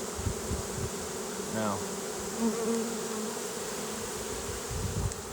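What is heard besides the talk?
bees buzzing around a swarm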